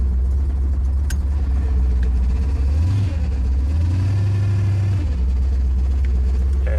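An old car engine runs after being started, a loud, close, steady rumble that rises in pitch twice as it revs briefly before dropping back to idle. The car has a tired transmission and an empty torque converter.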